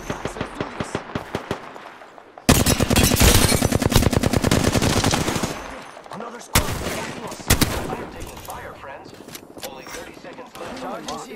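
Enemy gunfire in the Apex Legends battle royale game: loud, dense bursts of rapid automatic shots crowd the middle of the stretch, with sharp single cracks scattered before and after, all close and intense.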